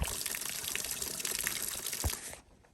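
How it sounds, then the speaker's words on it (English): Spring-fed mountain water flows steadily into a trough beside a trail, a continuous close splashing rush that runs alone with no talk, then drops away near the end. "So here is the water trough, but there's the deal. Coming right out of the mountain, it looks like it's spring fed."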